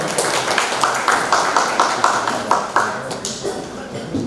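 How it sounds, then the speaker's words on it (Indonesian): Audience clapping at a national dialogue event in a mosque hall, a steady patter of many hands, moderately loud, with a voice speaking over it and the applause thinning toward the end. "Kita tepuk tangan semuanya"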